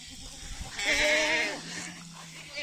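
Goat on a farm giving one loud, wavering bleat up close, followed by a quieter lower call.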